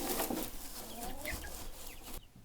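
Chickens cluck and murmur inside a straw-lined coop, several soft close calls overlapping in a busy stream before cutting off near the end.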